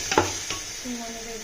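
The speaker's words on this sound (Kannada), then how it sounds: "ಇದು ನೀಟಾಗಿ ಫ್ರೈ ಆಗಿದೆ" Prawn biryani masala frying in a pan: two quick spoon scrapes against the metal over a low, steady sizzle, brief and fairly quiet.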